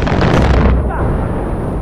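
A mortar shell from the Far Cry 4 video game bursts in a loud, close boom that rumbles deep and then trails off into a dull roar.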